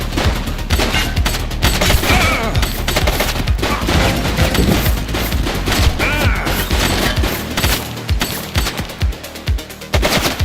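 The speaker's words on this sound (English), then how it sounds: "He's shooting!" Dense rapid gunfire from The Precinct video game, a police shooter, pours out in continuous loud bursts and crashes for the whole stretch, with no talk over it.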